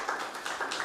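Scattered applause from an audience at a health chat session on AIDS stigma, a brief patter of claps at moderate distance with no talk over it.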